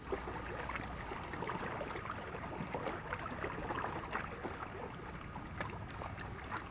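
An oyster harvester's small boat works the waters of Stump Sound at dawn, giving off a steady, fairly faint wash of water and wind noise with soft irregular knocks throughout.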